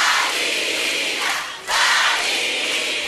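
A crowd at a live concert shouting and cheering together in a loud, dense roar that dips briefly midway before surging back at full strength.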